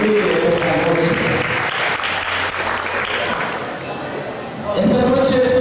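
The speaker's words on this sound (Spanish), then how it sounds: "Muchas gracias al profesor Francisco Saavedra por el aplauso." Audience applause at a 2007 bodybuilding contest, steady dense clapping that fills the clip and swells again near the end, with a voice speaking over it.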